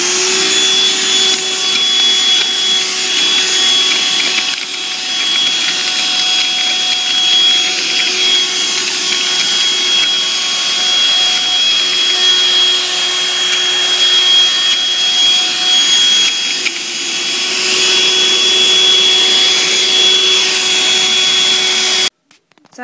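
Dirt Devil Scorpion handheld vacuum sucking up spilled goldfish crackers, a loud, steady whining motor hum with faint rattling and crunching of crackers, running continuously before cutting off abruptly near the end.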